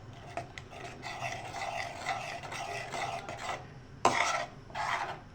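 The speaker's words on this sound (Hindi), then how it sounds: "अब ये सब डाल के हम इसको चलाएंगे," A spoon stirs corn into chicken corn soup in a pot, giving a close, soft scraping and swishing that runs steadily, then stops and resumes in short strokes.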